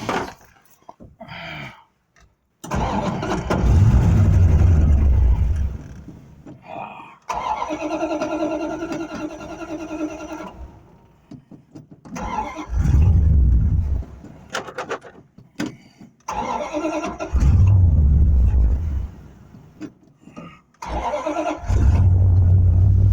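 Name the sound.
1972 Buick Skylark engine starting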